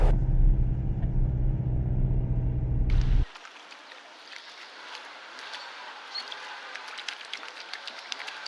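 Car driving along Mall Road in Nainital beside Naini Lake: a loud low engine and road rumble first, then a sudden drop to quieter street ambience with scattered faint clicks and knocks.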